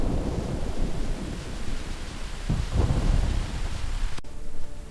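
Steady rain and wind wash over a dark night scene while deep thunder rumbles roll through, swelling near the middle and again toward the end, then cutting off abruptly.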